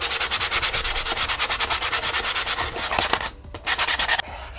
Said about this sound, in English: just sand the roughness down around the seams